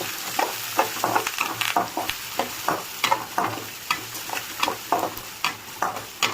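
Dried red chillies, curry leaves and green chillies fry with onions for semiya upma while a spoon stirs them in rhythmic scrapes, about a dozen quick strokes over a continuous close sizzle, no speech.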